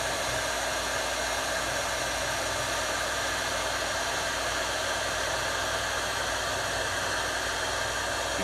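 A heat tool blows steadily while melting embossing powder on a birthday card, a constant close whooshing hum with no break over the whole stretch.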